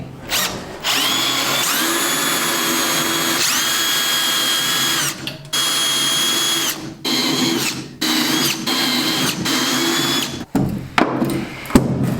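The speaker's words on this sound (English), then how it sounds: "We'll drill the rivets out of that guy." A power drill whines loudly in sustained bursts, drilling out rivets on a Land Rover Defender bulkhead, stopping and restarting several times, with short gaps and clanks between runs, close up.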